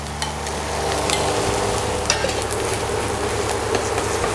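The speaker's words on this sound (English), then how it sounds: "What we're going to do now is just to fry our eggs." Two beaten eggs fry in a lightly oiled non-stick pan with a steady, close sizzle and crackle that holds without a break throughout.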